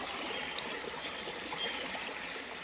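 Creek water flowing over big heavy rocks at Honeysuckle Creek during gold prospecting, a steady close broadband rush and trickle with no pauses, heard alone without talk.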